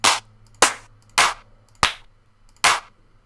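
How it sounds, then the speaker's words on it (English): A crisp electronic clap sample used in music production is triggered five times at a steady, even pace, each hit sharp and bright with a short decay, over a faint low hum. "So next thing I want to look for is a clap"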